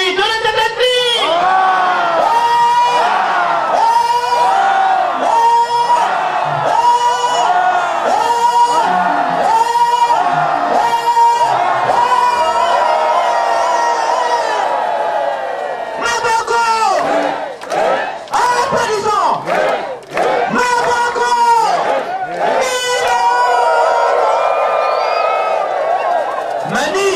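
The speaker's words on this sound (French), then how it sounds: "Acclamons Dieu le Père" A large congregation at a church celebration in Kibossi cheers and acclaims in loud, rhythmic waves of shouts and whoops, repeated bursts that keep rising and falling, close and overwhelming, with voices chanting throughout.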